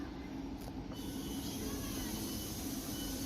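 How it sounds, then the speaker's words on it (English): Train stopping at Hampton station, a steady low rumble and hiss of the idling railcars that stays at an even level throughout, with no voices over it. "So, train stopped here."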